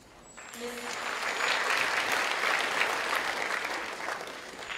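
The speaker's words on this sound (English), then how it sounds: "We can save our applause to the end, okay?" Applause from the audience at a college graduation ceremony, building from quiet to a steady, fairly distant roar of many hands clapping that holds throughout.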